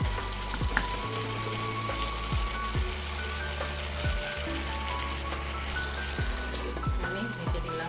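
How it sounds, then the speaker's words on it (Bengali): Mutton pieces being sautéed for a mutton and potol (pointed gourd) curry give a continuous, even, rain-like sizzle in a hot pan, close and steady with a faint tonal hum underneath. "এবার আমি এইভাবে সুন্দরভাবে কষে নিচ্ছি"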